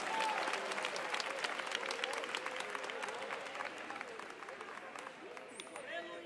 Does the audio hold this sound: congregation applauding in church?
yes